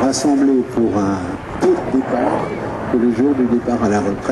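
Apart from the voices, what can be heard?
None of the usual background noises is heard.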